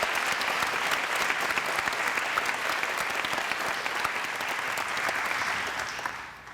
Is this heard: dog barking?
no